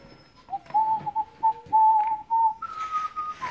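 A person whistles a series of short, clear, melodic notes on a back porch to get the attention of Airedale Terrier puppies, followed by a higher sustained tone, with faint background noise and no talking.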